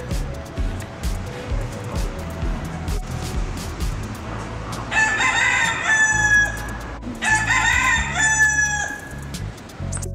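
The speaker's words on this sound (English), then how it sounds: "we heard roosters, and then Ella said, look, there's a rooster" Roosters at The Grove outdoor shopping center in Los Angeles crow twice in the second half, fairly near, over a bustling background of passing cars and crowd murmur.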